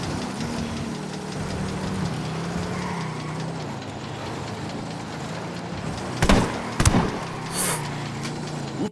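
A steady car engine drone hums throughout in the video game Ghost Recon: Wildlands, driving off-road, with a few sharp bangs and bursts near the end; no voices.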